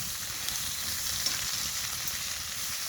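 Chopped vegetables fry in a pan at a winter campsite, making a steady, close hiss and crackle of sizzling oil with occasional small pops and no voices.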